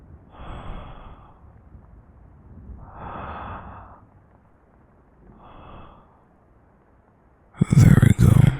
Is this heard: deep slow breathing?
yes